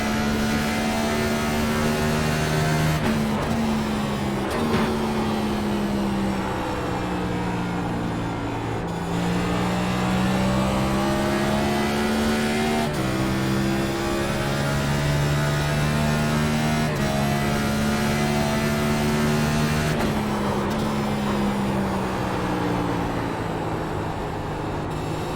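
NIS fixed-setup race car lapping Gateway in iRacing, its engine droning steadily and loudly throughout, with pitch sweeping up through gear changes and dropping sharply at several shifts, no voices.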